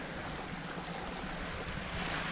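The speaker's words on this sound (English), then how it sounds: "Look, this is the main waterfall now," Main waterfall beside an old Scottish farmhouse, heard as a dense, steady rushing roar of falling water, close and unbroken, with no voices.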